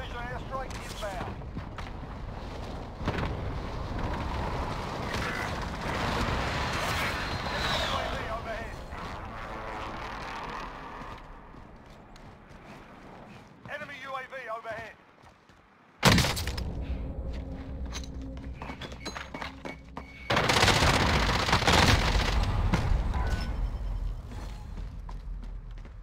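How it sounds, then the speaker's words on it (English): A friendly precision airstrike hits in Call of Duty: Warzone: a sudden loud crack, then heavy crashing explosions and roaring blasts that follow after a quieter stretch of battle noise and voices. "Be advised, friendly precision airstrike inbound."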